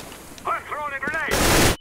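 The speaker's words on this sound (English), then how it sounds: "I'm throwing a grenade." A grenade goes off in the CS:GO video game: after a stretch of talk, a loud, sustained broadband blast takes over for about half a second and then cuts off abruptly.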